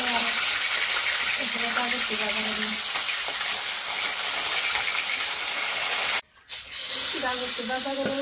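Fish frying in a pan alongside carrot, giving a steady hiss and crackle throughout, with a brief drop-out near the end and a voice talking faintly in the background.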